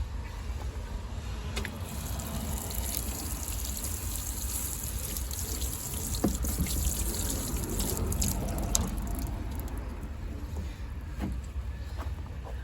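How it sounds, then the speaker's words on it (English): Water poured or sprinkled over parsnip seedlings in a garden growing box on an allotment, a steady close trickle and splash with continuous broadband hiss and no talking. "Just give them a quick water."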